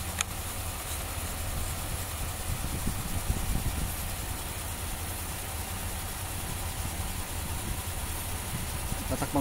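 A car engine idles steadily after a cam timing sprocket replacement, a constant low rumble with a faint hiss and no voices over it.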